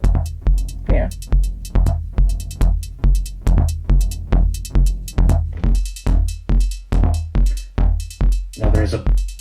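Eurorack drum sequencer with a glitch effect engaged, playing a loud, steady run of stuttering, chopped drum hits with strong low thumps and bright clicky transients, repeating fast and evenly throughout.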